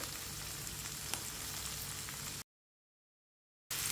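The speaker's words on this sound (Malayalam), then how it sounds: "ഉള്ളിയും കറിവേപ്പിലും ഒരുമിച്ചിട്ട് കൊടുക്കുകയാണ്." Onions and curry leaves fry together in a pan for a chutney, making a dense, even sizzle close by. It cuts out completely for about a second before resuming, and no one speaks.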